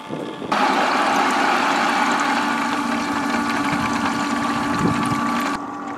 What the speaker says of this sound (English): now we got the main pump on